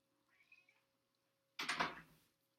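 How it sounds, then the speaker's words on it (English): A cat outside a window meows twice, first a faint muffled call, then a louder, breathier meow a moment later, heard from indoors against a quiet room with no talking. "The cat's meowing outside of the window."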